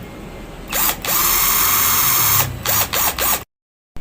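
A cordless drill set to drill mode whirs at high speed in several bursts, a long steady run followed by short on-off spurts, loud and close, ending in silence.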